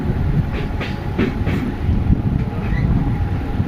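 Express train pulling into Boikala station on the line toward Tarakeswar, heard up close as a loud, continuous rumble with rhythmic wheel clatter and no talking.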